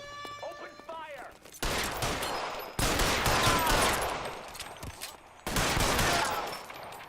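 Bursts of gunfire in the L.A. Noire video game, three loud sustained volleys of rapid shots separated by short gaps, preceded by a brief musical or engine tone.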